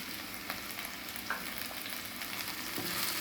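Turmeric, garam masala, chili powder and Kashmiri chili powder sauté in a pan for pav bhaji, giving a steady close sizzle with occasional soft scrapes of stirring.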